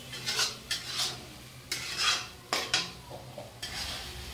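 Spiced elephant foot yam vegetable is stirred and fried in oil in a pan, a spoon scraping the metal in repeated bursts of scratchy clatter over a soft background sizzle, fairly close and without talk.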